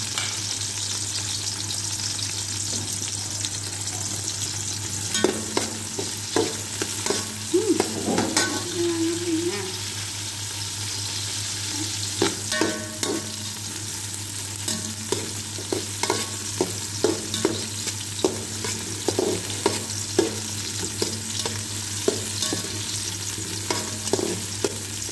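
Onions stir-fry in a pan for pancit canton with bihon, a soft, continuous sizzle under repeated scraping and tapping of a utensil that come in irregular bursts, heard close but fairly quiet with no talk.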